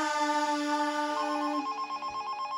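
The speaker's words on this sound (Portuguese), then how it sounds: "Olha o telefone tocando." A telephone rings with a steady, bright electronic tone carrying layered harmonics, close and fairly loud throughout, during a children's Bible song program about the wedding at Cana.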